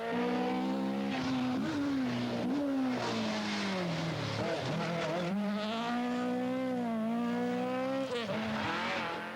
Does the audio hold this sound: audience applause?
no